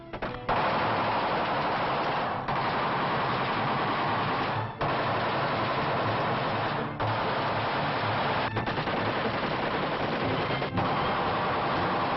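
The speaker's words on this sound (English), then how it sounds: "Now 600 shots a minute." A machine gun fires at 600 shots a minute in sustained, rapid bursts. The muffled, narrow-band rattle comes from an old 1936 recording, with brief pauses roughly every two seconds.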